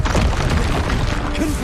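A Confringo spell explodes in the Hogwarts Legacy video game, producing a loud, dense burst of booming, crackling blast noise that fills the whole moment, close and heavy, with a low rumble underneath.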